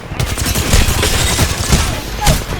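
Rapid bursts of video-game gunfire from an enemy squad overhead, loud and dense with repeated shot clusters and a couple of heavier reports, continuous over the whole stretch.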